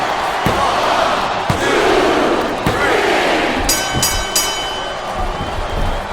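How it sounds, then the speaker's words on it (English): Crowd noise from a WWE SmackDown vs. Raw 2007 wrestling match on Xbox 360 roars steadily throughout, with sharp slams punctuating the din and a brief bright tonal flourish near the end. "The crowd is coming alive."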